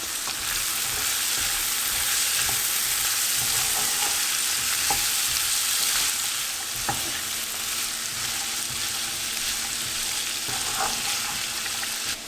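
Zucchini (dudhi) and chana dal mixture sautés in a pan without a lid, a steady close sizzle with occasional stirring clicks and scrapes throughout.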